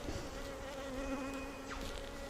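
European honeybees hum in a soft, continuous buzz around a bush during a swarm, faint and steady with a few individual bees droning past nearby.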